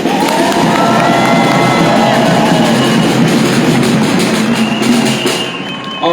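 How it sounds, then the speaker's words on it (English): A rally crowd at a vigil and march for justice claps and cheers loudly for a speaker, a dense, sustained roar of clapping and shouts outdoors that dips slightly near the end. "let's give another round of applause for Sandra"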